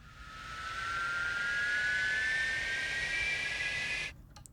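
A voice imitates a spaceship's jet engine taking off, layering several breathy whistles at different pitches into one rising, sustained roar that swells, holds steady and cuts off abruptly.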